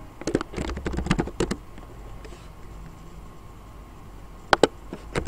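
Typing on a computer keyboard, with quick bursts of clustered keystrokes, a quieter pause in the middle, then a few more sharp taps near the end.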